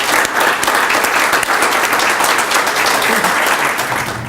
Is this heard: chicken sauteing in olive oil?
no